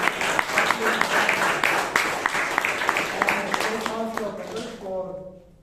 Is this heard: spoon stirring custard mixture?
no